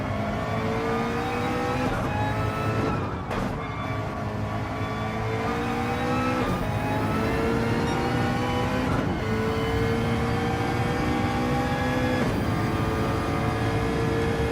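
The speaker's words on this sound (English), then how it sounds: "And you get cooler engine sounds out of it too." A racing car engine in the iRacing video game on the Nürburgring GP circuit revs hard and continuously, climbing through the gears with sharp shifts every few seconds, loud and up close, with no talking.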